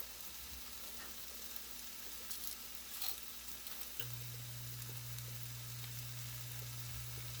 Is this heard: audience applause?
no